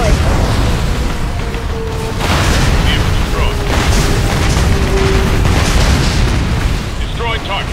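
Bombs exploding on a building in a combat flight video game, heavy booming blasts rolling continuously under game radio chatter and voices.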